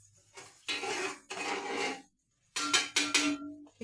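A spoon or spatula scrapes through a pot of sun-dried rice khichuri, with long rasping strokes, a short pause, then quicker, choppier scraping that sounds close and fairly quiet.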